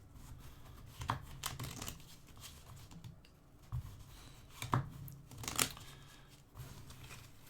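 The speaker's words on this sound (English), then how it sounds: "Give this one more shuffle here." Pandemic Hot Zone: North America cards being shuffled at a table, a soft papery riffling and rustling in a few quick bursts, quiet and close with no talk.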